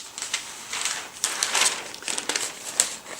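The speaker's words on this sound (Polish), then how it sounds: "A ten nasz papier to jest po prostu kalka." Thin technical tracing paper is handled and crinkled up close, giving bursts of dry crackling and rustling that come and go without talk.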